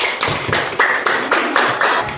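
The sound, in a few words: class clapping for Nova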